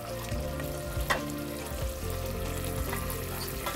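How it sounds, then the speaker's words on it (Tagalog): Ground beef fries in a pan with a steady, close sizzle and occasional stirring clatter, low harmonic background tones running underneath throughout. "So, itadry ko lang yung ground beef, itadry ko lang ho siya."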